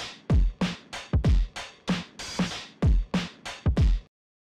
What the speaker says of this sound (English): I have two independent drum tracks, my regular drum loop and my affected drum loop, which if I solo and playback sounds like this